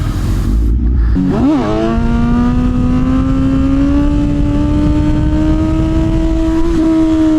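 A chunky street motorcycle revs up for a wheelie, its engine note rising quickly and then holding a loud, steady, climbing drone close to the listener.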